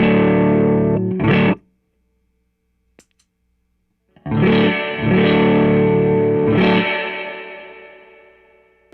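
An electric guitar played through a Topanga spring reverb into an overdriven amp rings out in distorted, wet chords: a short phrase, a pause with a faint tap, then sustained crunchy strums that decay into a long reverb tail.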